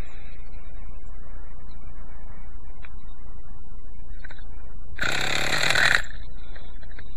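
A small Quickie 18 model engine sputters hard to start, giving one loud, rough burst of about a second after a quiet stretch of faint background noise.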